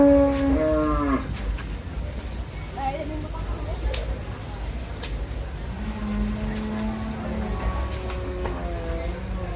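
Cattle at a Qurbani Eid cattle market in Dhaka, with a loud, close drawn-out moo at the start and another longer low moo later, all over the busy crowd noise of the market.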